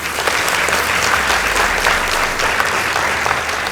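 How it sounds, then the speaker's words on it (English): Steady, dense applause fills the hall for high school debate teams from Karima Girls High School and Precious Blood Riruta, loud and continuous throughout with a faint crowd murmur beneath. "Let's give them a round of applause."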